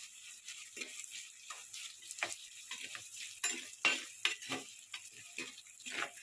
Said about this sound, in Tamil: வெங்காயம் வந்து நல்லா ப்ரௌன் கலர் ஆகிற வரைக்கும் நல்லா வதக்கி